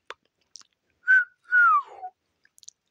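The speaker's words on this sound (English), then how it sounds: "so I can whistle" A short series of whistled notes: a steady tone, then a longer one sliding downward, clear and close with quiet gaps between.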